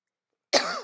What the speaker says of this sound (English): The coughing fits.